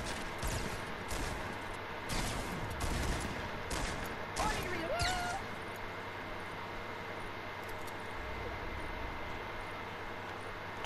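Gunfire in Fortnite aimed at bushes, a rapid cluster of sharp shots in the first half followed by quieter game ambience, with people talking over the action.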